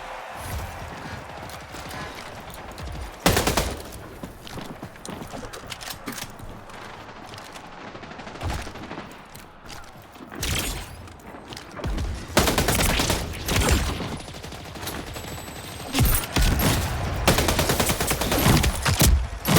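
Bursts of automatic gunfire crackle through a video game, sharp rapid volleys arriving in clusters with short gaps, some loud and close, others more distant, mixed with clattering mechanical game sounds.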